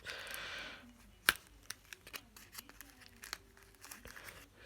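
Crinkling of the plastic bag holding the charging cable while unboxing a Samsung Galaxy A32 smartphone, with irregular rustles, light clicks and one sharp snap close by, a voice briefly speaking.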